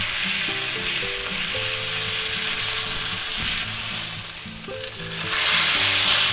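A thick chuck steak just flipped in a hot pan sizzles loudly and continuously, with a low hum running under the crackle and a brief surge near the end.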